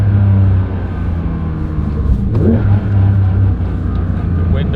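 Porsche 992 S/T engine with magnesium wheels and carbon ceramic brakes, revving hard toward high RPM with the window down, a loud rising rumble and a sharp upward sweep midway, engine noise filling the whole stretch.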